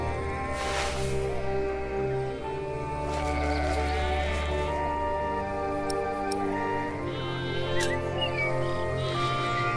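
Sheep bleating in the video game The Pillars of the Earth, several drawn-out, wavering bleats at moderate distance over a steady ambient farm background, repeating through the scene.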